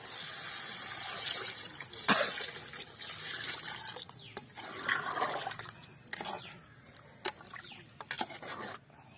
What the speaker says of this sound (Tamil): புளி தனி கரைச்சி வச்சுக்கிறோம்ல அது இப்போ ஊற்ற போறோம்